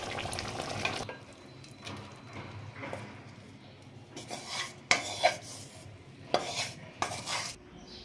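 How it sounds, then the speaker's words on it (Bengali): Prawn coconut curry is poured from a pot into a serving bowl, with soft scraping, clinks of utensil against metal and a few sharper knocks, close but fairly quiet, with no speech. "তরকারিটা আমার হয়ে গেছে, এবার আমি ঢেলে নেব পাত্রে"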